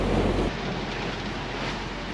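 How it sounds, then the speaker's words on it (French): Strong 18-knot headwind buffets a sailboat at sea, a steady broadband roar of wind and rushing water that is loudest at first, then settles into a continuous blustery rush with no voices. "subitement maintenant on a 18 nœuds de vent de face"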